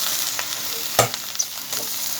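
Pickled mustard greens are stir-fried in a small pot with a steady, close sizzle throughout, broken by a sharp scrape of the spatula and a few lighter stirring knocks. No one speaks.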